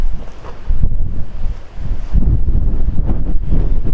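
Strong, gusty wind buffeting a microphone outdoors while a DJI Mini drone is flown, a loud, steady low rumble with surging gusts and no voices.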